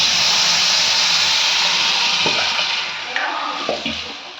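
A dissolved mixture is poured into a pot of mint rasam with a loud rushing, hissing splash that gradually tapers off, followed by a few small clinks near the end.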